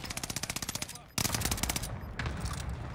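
Turret machine gun fire in a Call of Duty match, a fast rhythmic burst of loud close shots that breaks off, then returns in heavier, denser bursts.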